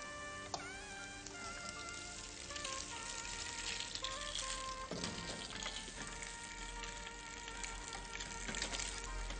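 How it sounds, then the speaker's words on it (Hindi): Boiled macaroni is tossed into a pan with fried onions, giving a quiet, continuous sizzle with soft stirring and scraping touches in a kitchen setting. "इसमें मैक्रोनी जो हमने बॉईल की थी उसको भी इसके अंदर टॉस कर लेते हैं।"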